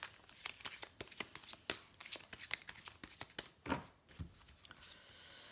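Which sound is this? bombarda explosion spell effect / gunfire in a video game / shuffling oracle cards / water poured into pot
shuffling oracle cards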